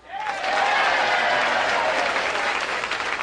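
Comedy club audience in Las Vegas bursts into applause, a dense, loud wash of clapping that swells quickly and holds steady for a few seconds.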